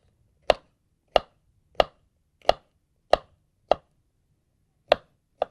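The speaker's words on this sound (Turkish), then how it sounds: "İri iri doğruyorum." A knife coarsely chops onions eight times on a cutting board, sharp crisp strikes at a steady, unhurried pace, close by with silence between.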